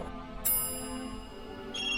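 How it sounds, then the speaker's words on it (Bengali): A phone rings with an incoming video call: a bright electronic ringtone with sustained melodic tones, heard alone at moderate volume. "মেহুল তখনই আলিয়াকে ভিডিও কল করে"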